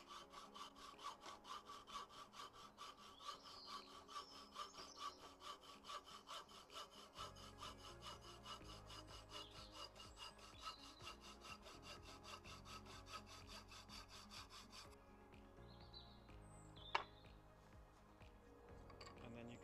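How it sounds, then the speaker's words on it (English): A mini hacksaw rasps through an elder stem or old garden cane in steady back-and-forth strokes, close and moderately loud, and the rhythm shifts partway through. "And then using a mini hacksaw, you could carefully"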